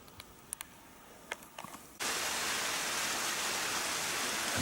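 A waterfall on the Wild Rice Trail suddenly becomes audible as a loud, steady broadband rush after a quieter stretch of faint footsteps and small clicks, continuing evenly to the end.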